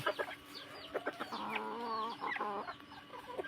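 A white-eared fighting rooster gives a string of clucks up close: short, uneven calls that lead into a longer drawn-out cackle near the middle. The sound is moderately loud and stands out against a quiet background with no talking.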